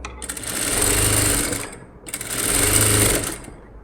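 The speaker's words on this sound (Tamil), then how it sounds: "இழுத்து பிடிக்காமல் தைக்கிறேன்." A sewing machine stitches the lining of a princess-cut blouse front in two loud, close bursts of fast whirring, each lasting about one and a half seconds, separated by a short pause.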